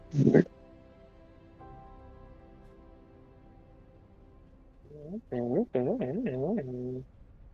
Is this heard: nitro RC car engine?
no